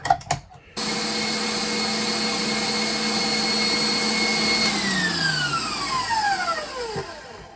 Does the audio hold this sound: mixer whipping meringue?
yes